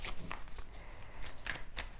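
Oracle cards are shuffled by hand in close, soft riffling and brushing bursts, a few quick flutters of card stock across two seconds, quiet and intimate.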